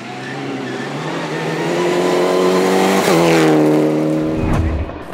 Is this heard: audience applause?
no